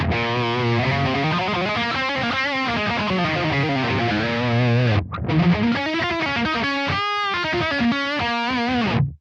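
Heavily distorted electric guitar through a boosted Mesa Revision F Rectifier amp profile played on a Kemper Profiler, with a Fortin 33 boost pedal in front: chugging riffs and sustained chords, loud and upfront, with a brief cut near the middle.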